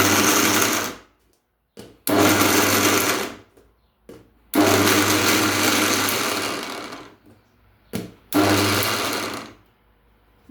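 Mixer grinder chopping soybean chunks runs in loud, close bursts, three long whirring pulses separated by short silences, with no talk over it.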